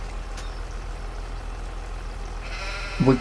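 A goat bleats once, briefly and at moderate distance, near the end, in the video game Farming Simulator 25, over a steady low engine-like hum of machinery idling in the background.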